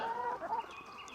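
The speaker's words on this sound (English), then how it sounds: "both chicken flocks are out and happy to be out" A flock of chickens outdoors in the woods clucks faintly at a distance, giving a short stretch of soft calls over quiet, leafy background noise.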